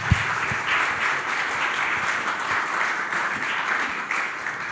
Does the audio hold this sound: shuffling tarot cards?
no